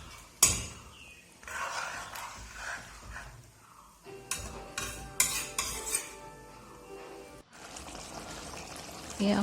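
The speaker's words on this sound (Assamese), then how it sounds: "অকণমান পানী দি দিছোঁ।" Water poured into a pan of jackfruit curry as it cooks, with stirring, scraping spoon-on-pan clatter and a soft sizzle, the activity coming in uneven bursts with brief pauses.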